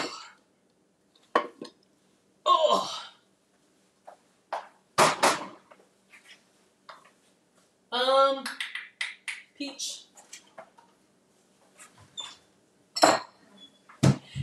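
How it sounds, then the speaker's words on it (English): Dishes and glassware clink while someone makes a glass of peach tea in a kitchen, with scattered sharp knocks and clinks at irregular intervals and occasional speech in between. "let me just make a quick glass of tea."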